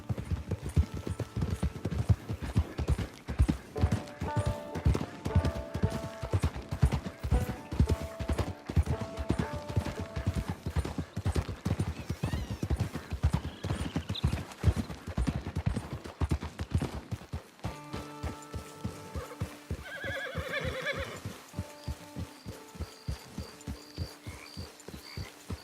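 Horse hooves clip-clopping in a steady, continuous rhythm throughout, from the Red Dead Redemption 2 video game, with tonal music-like game sounds over them and a shift in the background mix partway through; no neighing stands out.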